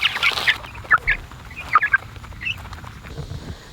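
Young Cornish cross meat chickens on a farm clucking and chattering nearby, with a busy run of short, overlapping calls throughout.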